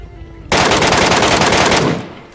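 Rapid automatic gunfire in the PUBG Mobile video game: one loud, sustained burst of fast, evenly spaced shots lasting about one and a half seconds, with no talk over it.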